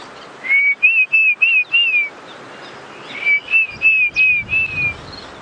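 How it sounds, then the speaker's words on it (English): Repeated clear, rising whistled calls of a Diederik cuckoo in two bursts of about five notes each, outdoors on a sunrise safari with faint background chatter from other birds. "You can hear a Diedrich's cuckoo."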